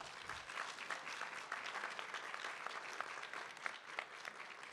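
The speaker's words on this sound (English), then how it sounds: "a big round of applause to our presenters" An audience at a university PechaKucha Night claps for the presenters, a dense, steady patter of many hands heard at a distance and fairly quietly throughout.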